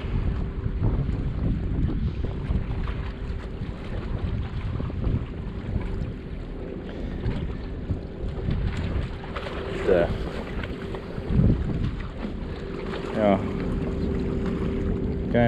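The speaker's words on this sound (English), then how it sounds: "a huge amount of wind. It is windy, but it's not bad." Strong wind buffets the microphone on a fishing pier at North Pier, a steady roar with gusts and surf-like rumble throughout, with a voice talking intermittently underneath.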